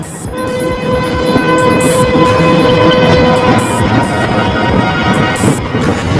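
A train rumbles loudly and steadily throughout, a sustained horn tone sounding over the clatter before trailing off.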